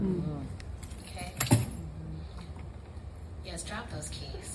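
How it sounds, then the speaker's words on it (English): A bunch of keys jangles and drops with a brief clattering hit, set against a low background rumble. "Yes, drop those keys."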